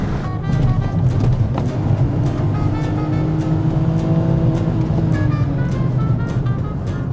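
A car engine pulls hard in fourth gear, a steady loud drone whose pitch climbs slowly as it accelerates, heard from inside the car with no talking.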